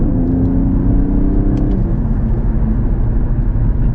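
An Infiniti Q50S Hybrid fitted with a Takeda AFE intake accelerates in normal driving, heard from inside as a steady, loud engine drone with rising intake whir.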